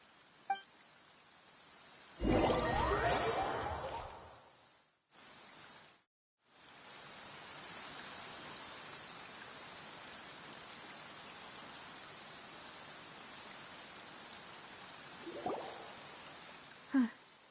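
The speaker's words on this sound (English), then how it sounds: "It's been raining non-stop for a few days now." Steady rain in the video game Genshin Impact hisses evenly for most of the stretch, broken by a louder rustling burst early and two brief cutouts, with small knocks near the end.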